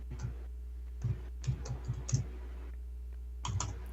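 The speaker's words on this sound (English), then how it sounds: "is typing an angry letter to Trump" Keystrokes on a computer keyboard come in short irregular bursts of clicks, with brief pauses between clusters, fairly quiet over a steady low hum.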